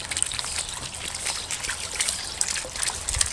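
Water trickles steadily in a garden goldfish pond, a soft, continuous splashing burble that stays close and even throughout, with no voices.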